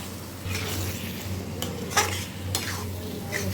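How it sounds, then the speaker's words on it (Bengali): A fried spice mix is stir-fried in a pan for a minced jackfruit dish, with steady sizzling and repeated scraping strokes of a spatula against the pan, close and without talk. "আমি ভাজা মশলাটা দিয়ে দিয়েছি। এবার ভালো করে কষিয়ে"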